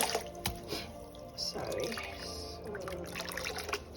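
Fumbwa leaves being rinsed by hand in a basin of water, with soft drips, splashes and trickles close by, interrupted briefly by a spoken word.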